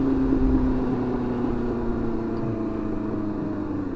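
A Yamaha R1 sport bike with 19,000 miles is underway, its engine giving a steady droning hum with a faint rising tone and no one speaking.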